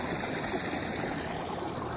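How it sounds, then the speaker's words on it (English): Water of a mountain stream runs out from under a rock with a steady, close rushing and trickling, continuous and even, with no voices. "I heard this water running, and look, it pops out of that rock"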